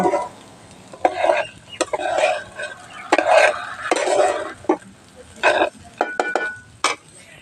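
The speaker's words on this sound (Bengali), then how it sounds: "অন্য একটা কড়াইতে জল গরম বসিয়ে দেব" A kadai of water is set down on a stove amid clattering metal knocks and scrapes of cookware, several sharp clinks scattered irregularly, fairly close.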